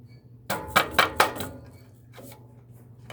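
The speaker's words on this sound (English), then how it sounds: "Just give it a little bit of a knock." Four quick, sharp taps of a small hammer on a wooden bandsaw box, closely spaced, followed by a softer knock and quiet shuffling.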